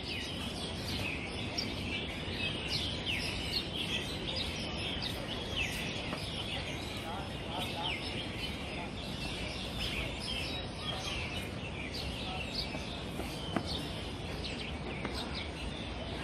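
Birds chirp continuously in Tsim Sha Tsui, a dense, faint chorus of high tweets spread over a steady outdoor background with no one talking.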